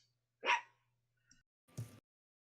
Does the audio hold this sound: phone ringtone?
no